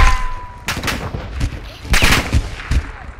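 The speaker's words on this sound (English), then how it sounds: "You are taking effective fire" Rapid bursts of gunfire in the Call of Duty DMZ game, sharp repeated shots fired in quick clusters, loud and close, with a brief radio-style voice tone at the start.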